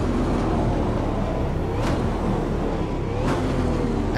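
A 5.7-liter V8 car engine at a track day, a loud, steady, continuous roar close by with two brief sharp blips along the way.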